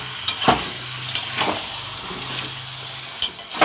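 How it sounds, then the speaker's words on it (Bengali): Chicken pieces fry with spices in a pan, a close sizzle broken by several sharp stirring knocks and scrapes of a spatula against the pan. "এবার এইটা দিয়ে মাংসটা দিয়ে ভালোভাবে কষিয়ে নেব।"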